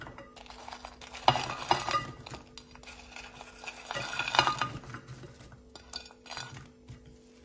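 Okra cooks in hot oil in a pan, with a light sizzle under bursts of utensil clinks and scraping as the pieces are moved about, close up and fairly loud.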